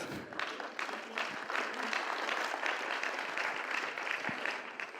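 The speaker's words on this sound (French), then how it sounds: "ça s'applaudit." An audience at a philosophy talk on the virtues of failure claps continuously for about five seconds, a dense, even patter of many hands heard from a moderate distance.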